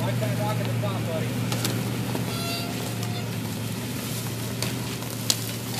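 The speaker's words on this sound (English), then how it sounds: "Listen to the Toyota." A Toyota truck hauling a load of wood up a rocky trail, its engine giving a steady, close, low drone with faint clicks and rustling over it.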